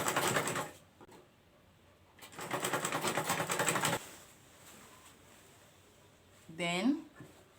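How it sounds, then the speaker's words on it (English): A sewing machine stitches a fabric mini traveling bag in two close bursts, one brief and one lasting about two seconds, followed by quieter handling noise and a short high squeak near the end. "So I'll just start sewing it now."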